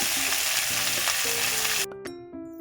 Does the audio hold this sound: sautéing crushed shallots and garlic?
yes